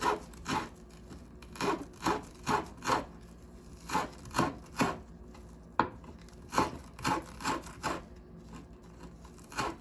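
A kitchen knife chops two or three chili peppers finely on a board, giving a quick series of regular, crisp taps with brief pauses, close and fairly quiet.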